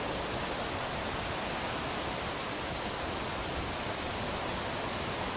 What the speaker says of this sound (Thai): เดี๋ยวพาเพื่อนๆไปดูน้ำตกใกล้ๆนะ